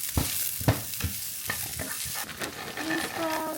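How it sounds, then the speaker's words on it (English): Carrots, cabbage and green onions frying and being stirred in a pan, with steady close sizzling and scraping strokes that give sharp knocks near the start, then softer hissing. "I'm gonna add carrots, cabbage, green onions,"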